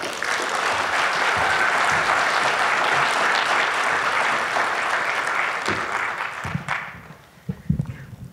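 Sustained audience applause filling a conference hall as a speaker is welcomed to the podium at a higher education opening session, steady and dense before tapering off near the end.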